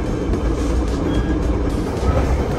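Onboard rumble of a Tri-Rail commuter train riding between Miami and Fort Lauderdale, a steady dense low roar of wheels and carriage noise filling the whole stretch with no clear speech.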